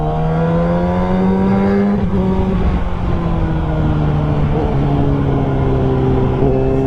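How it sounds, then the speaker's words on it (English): A Kawasaki ZX6R inline-four super sport motorcycle engine runs loud and close with a dense, steady drone whose pitch eases slightly downward over several seconds. "This is Kawasaki Zx6R. Yes, this is a Zx6R motorcycle."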